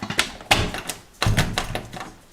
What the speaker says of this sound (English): let's go ahead and close the door and see how everything works and how it snaps shut